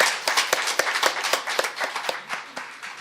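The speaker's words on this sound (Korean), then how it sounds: "예, 박수로 환영해 주시고요" A small audience at a live-streamed forum on unmarried mothers claps to welcome a lawyer taking the floor, a sparse crackle of distinct handclaps in an uneven rhythm, fairly close and moderately loud.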